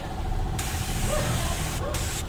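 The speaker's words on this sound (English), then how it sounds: "He's actually painting it with a spray, with the sprayer." A paint sprayer coats a VW Kombi in a steady broadband hiss that pauses briefly twice, close and continuous.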